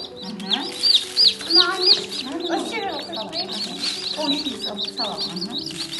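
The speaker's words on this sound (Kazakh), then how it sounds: "Ал кеше шыққан балапандарымызды біздер сумен тамақтандырамыз" Many newly hatched chicks chirp and peep in rapid high calls, busy and close, with some lower clucking underneath.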